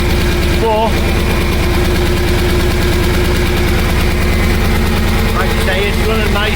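Ferrari V12 kit car engine idling nearby in a steady, even low throb with a regular pulsing rhythm, loud and constant throughout, with no voices over it.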